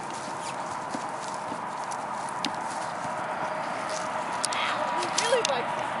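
Gaited horse hooves clip-clopping at a quick pace, faint and steady under a talking voice and low background noise.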